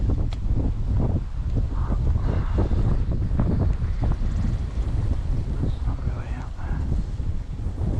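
Strong wind gusts buffet the microphone on a dam while fishing, producing a loud, continuous low rumble with uneven surges throughout.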